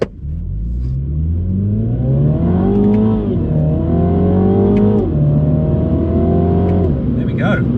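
A 2021 Mini Cooper JCW accelerating at full throttle from a standstill, its loud engine note heard up close from inside, climbing in pitch and dropping at each gear change.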